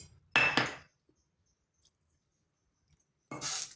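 A bowl of sugar tipped into a pan to make syrup for sooji kala jamun, a short granular pour with a metal clink, close, then silence and a second longer pour near the end.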